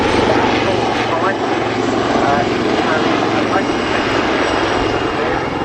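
A Wildcat helicopter flies a display at the Cosford Air Show, its rotor and engine roar loud and sustained throughout, with a commentator talking over it.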